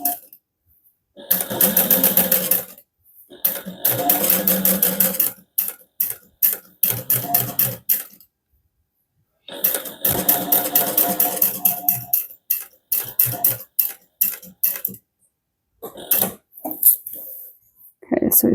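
A sewing machine stitches down the side seam of a harmonica hobo bag in several bursts of rapid whirring, separated by pauses and short stops, with a brief cough in between.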